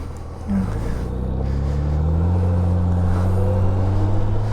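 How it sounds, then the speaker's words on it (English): A Can-Am Spyder RTL fitted with a Honda Gold Wing engine runs on a wet road, a smooth, steady low drone whose pitch rises slightly, with no talk. "It is so strange to ride something with a Spyder with a different sounding motor in it."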